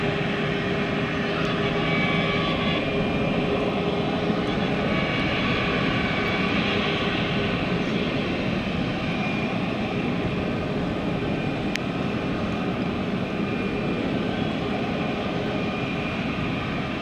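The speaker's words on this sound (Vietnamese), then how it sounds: "Và đây là đoạn video mình quay một chiếc C-17 cất cánh ở sân bay quốc tế Nội Bài" A Boeing C-17 military transport jet takes off at Noi Bai International Airport, a steady, loud, broadband jet engine roar sustained throughout with a constant rumble and hiss and no talk.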